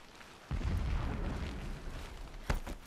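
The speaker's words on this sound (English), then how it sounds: "there's a lot of explosions going on" Explosions in the Horizon Zero Dawn video game: a sharp blast starts a long, low rumbling roar, and a second burst with a couple of quick cracks comes near the end, loud and alone.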